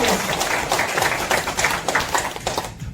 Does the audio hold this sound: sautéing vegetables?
no